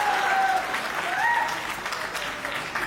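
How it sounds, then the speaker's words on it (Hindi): Loud, sustained applause from an audience at a Hindi stage poetry event, dense and steady for the full three seconds before tapering slightly at the end. "और आप लोगों को तालियां बजानी ही होगी।"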